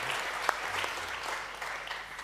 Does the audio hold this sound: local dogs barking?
no